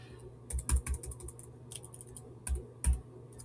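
Keys clacking on a computer keyboard nearby, in two short bursts of quick typing separated by a pause, with a few heavier key strikes standing out; no talking.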